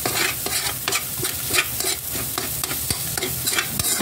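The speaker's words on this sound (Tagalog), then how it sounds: "Tapos, haluin nyo ng maigi." Fried rice made from leftover dishes is stirred in a pan, the spatula scraping and clattering in a steady rhythm over a continuous sizzle of frying, close and fairly loud, with no voices.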